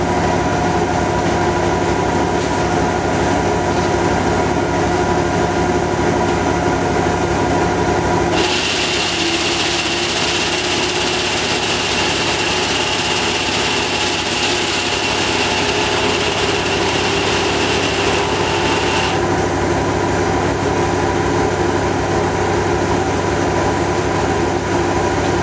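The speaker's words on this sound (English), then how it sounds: "That's what my resonant design accomplishes with the alternator frequency of 465 hertz." A resonant Tesla coil powered by a 465 hertz alternator gives a loud, harsh buzzing roar for about ten seconds over a constant, heavy humming drone.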